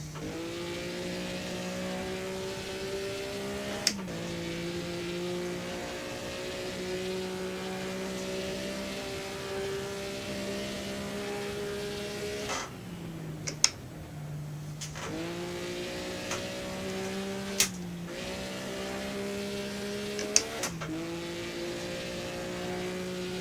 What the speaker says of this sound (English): Awesome sounding car.